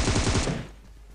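Video game machine gun fire, a rapid close burst of loud shots that cuts off abruptly into quiet background after about half a second.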